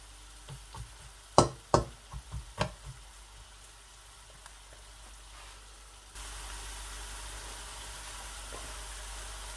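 Onions frying on medium heat in a pan for mutton kadahi, just starting to brown: a few scattered taps and clinks first, then a steady, soft sizzling hiss that settles in and holds, with no talk.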